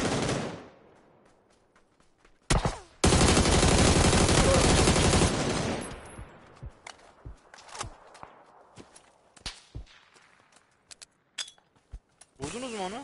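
Video game gunfire erupts in a loud, sustained automatic burst, then gives way to scattered single shots, clicks and footsteps, with people talking over the quieter stretches.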